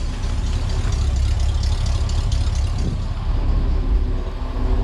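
A V8 farm truck engine, a 313, idles smoothly and steadily, a close, loud low rumble with an even throb and no voices.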